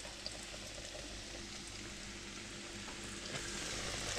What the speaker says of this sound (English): Oh, Sizzle, good sound.